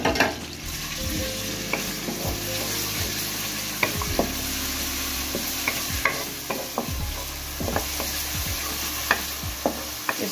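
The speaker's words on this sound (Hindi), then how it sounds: "घी में मैं अब थोड़ा सा और घी डालूंगी, और ये लहसुन अदरक का पेस्ट है ये डालूंगी" Garlic-ginger paste fries in hot ghee for a chicken pakora karahi, a steady close sizzle broken by repeated spoon scrapes and clinks as it is stirred, with no talking.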